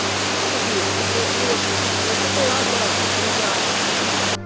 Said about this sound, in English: It is the point where water stream overflowing from Fewa Lake suddenly collapses and surges down the rocks into a deep gorge